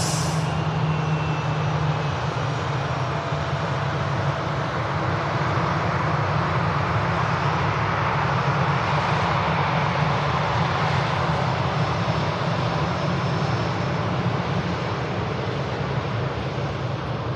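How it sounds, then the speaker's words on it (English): A Ryanair Boeing 737 arriving from Gdansk on final approach to Manchester Airport, its engines a loud, continuous broad roar that holds steady throughout with no voices. "Aircraft to arrive with us is a Ryanair from Gdansk in Poland, 737 Mike Foxtrot"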